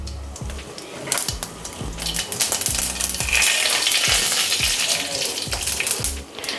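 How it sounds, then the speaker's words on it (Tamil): Mustard seeds and urad dal crackle and sizzle in a little hot oil while being tempered for a beans stir-fry, the frying loud and close, with repeated scraping stirs of a utensil in the pan. "இப்போ நம்ம கடுகு உளுத்தம்பருப்பு தாளிச்சிக்கலாம்."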